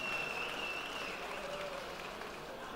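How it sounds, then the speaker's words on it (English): At the Fleet Transport Awards ceremony, a room full of guests gives a brief, dense round of applause that starts at full strength and fades slightly, heard at a steady middle distance. "Big round of applause for Mary, everybody"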